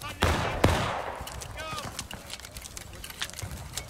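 A musket volley fires on command in the War of Rights battle game, with sharp, loud overlapping shots up front and a rolling tail of scattered cracks and battlefield noise after.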